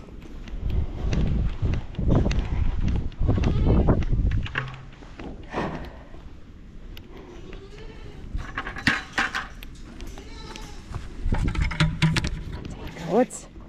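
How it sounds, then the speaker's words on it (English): Goats bleat repeatedly around a farm pen during fall chores, with a person talking to them in between and some shuffling and thumping of hooves nearby. "Goats."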